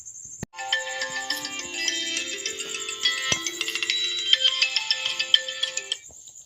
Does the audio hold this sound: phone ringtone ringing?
yes